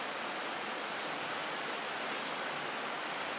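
Heavy rain pours down steadily as a dense, even hiss that fills the scene without a break. It stays loud and constant throughout, with no talking over it.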